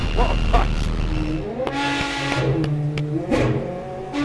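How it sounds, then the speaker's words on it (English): A loud car engine revs hard in bursts, with a deep throaty roar rising and falling through several throttle blips, close by with no speech. "Ah, the engine!"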